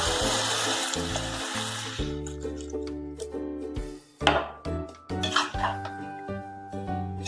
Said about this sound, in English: Now we will add 2 cups of water.